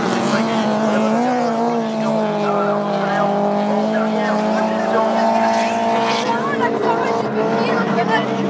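Rallycross race cars roar past at close range on a circuit, loud engines rising and shifting in pitch across several seconds with tyre noise, while a commentator talks over the action.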